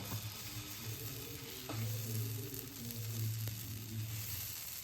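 Sweet potato pancake batter sizzles on a hot tawa in a steady, soft frying hiss that swells slightly as the batter is poured, heard up close with no talking.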